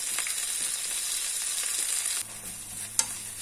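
Kangkung stems stir-frying in a hot wok for village-style nasi goreng, a steady loud sizzle throughout with a few stirring scrapes and a brief clack near the end.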